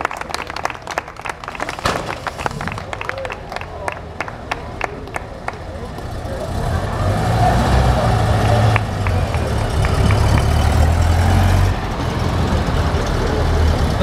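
A 1972 BMW 3.0 CS with a 3.5-litre six-cylinder of 300 hp at a classic car meet in Kemnath rumbles up and passes close by, its engine growing louder in the second half while footsteps and crowd clatter sound beforehand.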